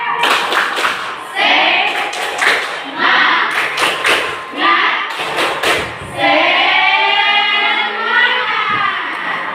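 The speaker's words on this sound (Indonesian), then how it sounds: "kita buktikan dulu dengan tepuk tangan" Schoolchildren in an Indonesian classroom clap together in a rhythmic patterned cheer after a count of three, sharp grouped claps and thumps, followed by children's voices chanting in unison.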